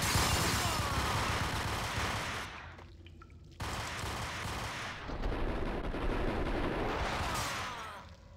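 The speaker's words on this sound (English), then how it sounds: "the wine barrels even explode with wine" Wine barrels bursting under gunfire in Max Payne, a rapid barrage of loud, close shots and crashing blasts that cut out briefly and then resume as dense, sustained chaos.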